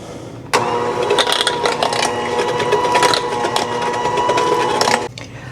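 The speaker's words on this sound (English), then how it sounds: "I'm just using my hand mixer." Electric hand mixer whirring steadily as it beats oil, eggs and sugar together for zucchini blueberry bread, starting abruptly and running continuously for about four and a half seconds before cutting off, close and fairly loud with no talk.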